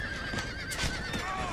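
A horse whinnies, a high wavering neigh rising over a low background rumble with faint hoof-like thuds, heard at moderate distance.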